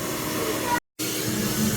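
A vacuum cleaner drones with a loud, steady whooshing hiss, cut off abruptly for a split second before resuming at full strength.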